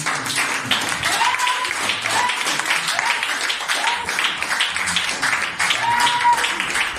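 A church congregation at a French-language Sunday worship service claps and applauds loudly in steady rhythmic bursts, with voices calling and singing over the clapping.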